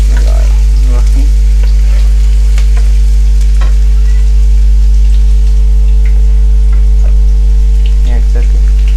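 Two medium chopped onions sizzle steadily in hot oil in a pan, a loud continuous fry with a low hum underneath and occasional stirring scrapes.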